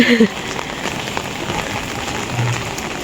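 Steady rain falls at a house construction site where work has halted, a dense even patter on surfaces with a faint voice briefly in the background.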